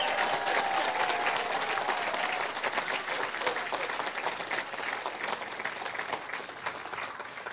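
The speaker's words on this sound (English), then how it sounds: "a big round of applause for the mayor of our great city, Jeanette McCarthy." A large audience claps for a city mayor, steady dense applause filling the room from start to finish, tapering slightly toward the end with no speech over it.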